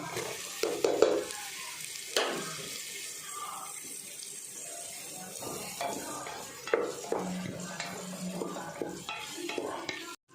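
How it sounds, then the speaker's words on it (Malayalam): Capsicum being stirred as it fries in a pan, with irregular scraping strokes and occasional sharper knocks over a steady low hiss, close by and without talking. "ഒരു അഞ്ച് മിനിറ്റ് ഇതിലൊന്ന് ഇളക്കി കൊടുക്കാം കേട്ടോ ഈ ക്യാപ്സിക്കം"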